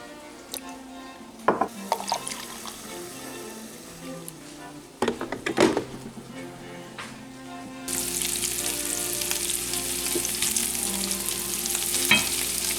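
Butter melting in a pan, a soft sizzle that swells into a steady, louder frying hiss, broken by occasional clinks and knocks nearby, no voices.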